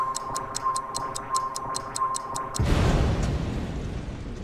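A bomb timer ticks steadily, about a dozen evenly spaced sharp clicks over a faint tone, then a loud explosion bursts out and rumbles on for a couple of seconds.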